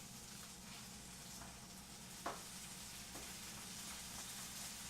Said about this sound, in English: we're ready to add the basil and the zoodles and crank up that heat